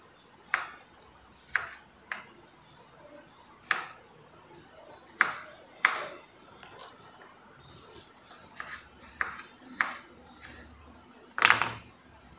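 A knife finely chops raw coconut on a board with a steady run of crisp, separate thuds about once a second, close and clear in a quiet room.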